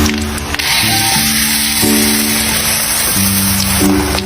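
Loud, steady sizzling of spinach frying in hot oil over medium heat, a dense crackling hiss throughout with a sustained musical tone in the background.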